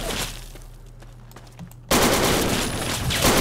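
Automatic gunfire in the video game Fallout 3, a dense burst of rapid shots erupting suddenly partway through after quieter scattered shots, loud and continuous to the end.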